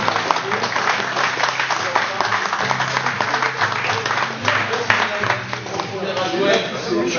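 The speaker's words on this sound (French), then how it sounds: "Donc on peut encore une fois l'applaudir." An audience at a historical exhibition in Saint-André-les-Alpes applauds in a steady, full-room clatter of hands, with voices murmuring underneath throughout.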